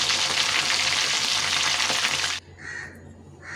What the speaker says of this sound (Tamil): எண்ணெயில் போட்டு மட்டன் எல்லாத்தையும் நம்ம பொரிச்சு எடுத்தாச்சு